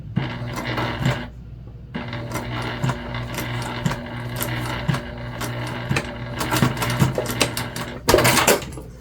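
A sewing machine runs in steady bursts while stitching a dual pouch wristlet with white thread on white fabric, its needle hum pausing briefly once near the start and again toward the end, close and fairly loud.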